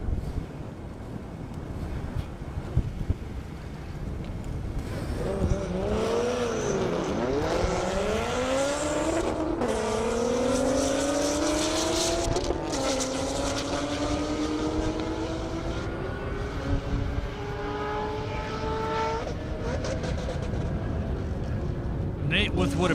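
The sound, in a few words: Corvette Z06 and BMW 335 drag racing on airstrip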